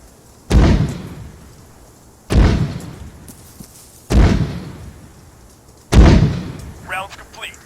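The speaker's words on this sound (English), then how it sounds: "mortars, high explosive shells, and let's do 5 of them" Four heavy high-explosive mortar shell blasts in Arma 3, each a loud sharp boom decaying into a rumbling tail, spaced about two seconds apart, with faint voice-like sounds after the last.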